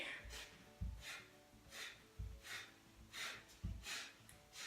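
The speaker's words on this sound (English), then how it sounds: "It sounds really funny, but it's called breath of fire, and it creates a lot of heat." Quick nasal exhalations of Kapalabhati breath of fire during a core-strength yoga workout: soft, rhythmic bursts of air through the nose about every half-second to second, faint and close, with no talking.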